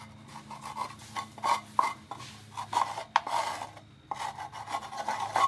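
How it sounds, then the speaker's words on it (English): A freshly pressed earth block is scraped at the edges and rubbed flat by hand, giving repeated rasping, gritty strokes at close range with short pauses between passes and no talking. "Scrape off the edges, rub it real flat."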